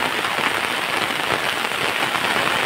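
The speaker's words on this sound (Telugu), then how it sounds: "వర్షం అయితే పెరుగుతూనే ఉంది" Heavy rain pours steadily onto a cotton farm, a dense, unbroken hiss of drops drumming on surfaces, loud and close with no voices.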